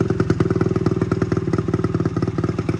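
A 1975 Yamaha DT250 motorcycle engine idling, a close, loud, steady rapid putter with an even thumping rhythm throughout.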